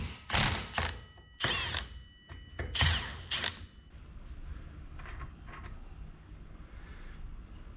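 A 27 mm socket wrench works loose a spindle nut on a John Deere 425 54-inch mower deck, giving a few loud ratcheting clicks and metallic clunks in bursts, then fading to quieter scattered mechanical taps.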